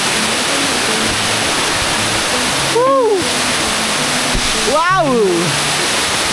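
Mini Kaparkan Falls in Nueva Vizcaya pours with a loud, steady rush of falling water. Brief voices exclaim twice partway through, over the constant roar.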